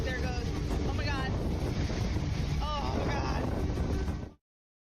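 Strong wind gusting outdoors, roaring steadily into the microphone as a broad, loud rush that stays constant for about four seconds before cutting off, with faint voices underneath.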